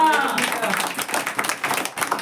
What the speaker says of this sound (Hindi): ये ताली मारे